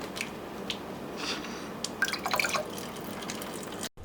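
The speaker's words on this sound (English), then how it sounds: "you should probably open it over the sink. It has a lot of water." Water drips and trickles from an opened package of extra firm tofu over a kitchen sink, with scattered splashes and a brief louder patch before an abrupt cut.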